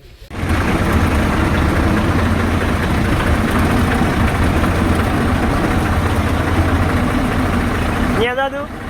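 A tractor engine idles steadily and close by, a low continuous rumble running almost the whole time, with a voice breaking in near the end.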